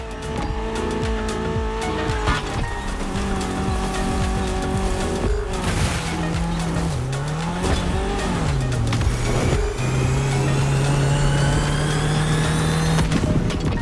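A BMW Z4 M40i roadster racing in the video game Motor Fest, with a steady loud engine drone, gear changes, shifting revs and squealing tires through corners, no speech.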